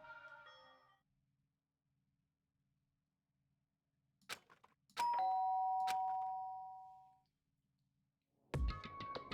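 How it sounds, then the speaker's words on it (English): A doorbell chime in the Danganronpa Trigger Happy Havoc video game rings out clearly as a ding-dong with a long fading tone, after brief soft clicks and followed by another sharp sound, with no talking. "did I hear the doorbell?"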